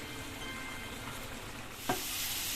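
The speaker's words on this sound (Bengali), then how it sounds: "গাজর, ক্যাপসিকাম, তারপরে বিনস, মটরশুঁটি সব একসাথে ভেজে নিচ্ছি, ভাজা চলছে" Carrots, capsicum, beans and peas frying together in a pan for fried rice, a steady soft sizzle with a brief stirring scrape near the end, followed by a slightly louder hiss.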